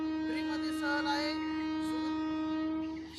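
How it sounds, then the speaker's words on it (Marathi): A passenger train stands at a railway station on a school trip to Shegaon, giving off a steady, loud, droning horn-like hum with faint background bustle throughout. "आणि रेल्वे सध्या उभी आहे,"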